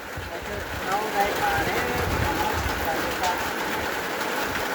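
Steady rain falls in a rural forest area with a continuous soft patter on surfaces, while a person talks over it.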